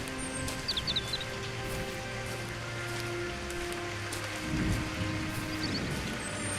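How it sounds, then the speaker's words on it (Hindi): Steady rain falls outdoors as a continuous, even hiss of drops, with a few faint bird chirps and no voices. "ये क्या मुसीबत है, अब बारिश भी।"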